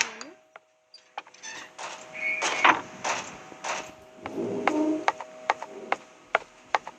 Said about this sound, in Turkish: Kardeşim kapıyla oynuyor beni rahatsız etmek.